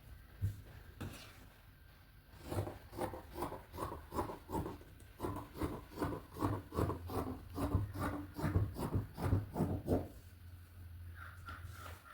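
Scissors cutting through fabric for a small sewn mobile phone pouch: a run of close, rhythmic crisp snips and rasping cloth rubs, quiet, with no talking.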